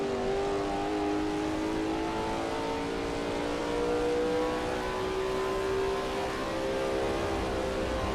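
A Lola T70 MkII Spyder race car engine at Spa in a racing video game, a steady loud sustained drone with a slowly shifting pitch as it works through Eau Rouge, heard alone without voices.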